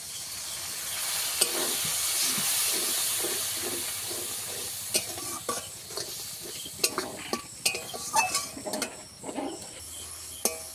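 Chili powder and coriander powder frying in oil in a pan, a steady sizzling hiss with scattered scraping stirs and clinks toward the end, close and moderately loud, no talking.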